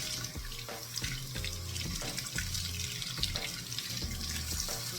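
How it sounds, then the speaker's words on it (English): Tap water runs from a kitchen faucet into the slit of chile peppers to rinse out the seeds, a steady close splashing stream with uneven gurgles as the peppers are turned under it. "I just kind of run water inside."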